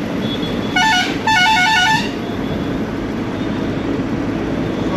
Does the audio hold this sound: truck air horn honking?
yes